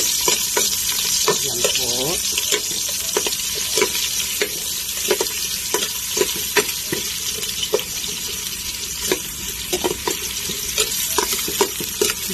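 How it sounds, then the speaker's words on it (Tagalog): Sliced onions sautéing in a pan for dinuguan, a steady loud close sizzle with regular scraping stirs throughout, a brief voice partway in. "Gisa ko ng sibuyas."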